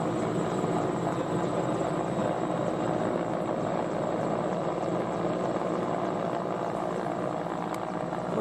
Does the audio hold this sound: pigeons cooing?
no